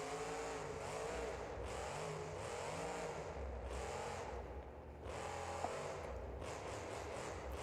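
A monster truck in BeamNG.drive on its normal setup with grippy Harper race tires rumbles along, its engine droning steadily and rising and falling in repeated revving swells, fairly distant and unaccompanied by talk.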